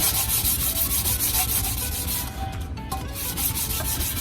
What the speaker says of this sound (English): You don't need any major sanding at all on this. Like I said, just a nice scuff.